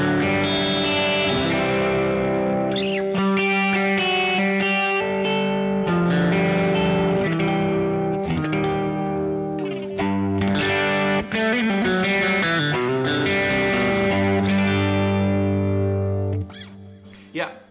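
Electric guitar through a Vox AC100 amp with a shimmering chorus effect, chords and single notes ringing out with distortion, then fading out at the end.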